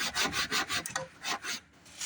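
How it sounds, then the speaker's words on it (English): Scrap wood being hand-sanded inside narrow slots, a quiet rhythmic rasping in about eight quick back-and-forth strokes, close and alone. "The quick sanding in the slots"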